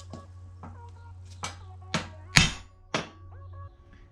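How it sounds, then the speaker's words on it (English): Metallic hammer blows seat transmission gears on an FS5W71 gearbox for an S14, striking about once every half second, six or seven sharp hits ringing briefly, the middle one loudest, with a steady low hum beneath. "And now, I hammer it."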